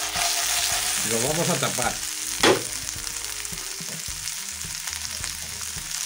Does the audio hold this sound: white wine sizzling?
yes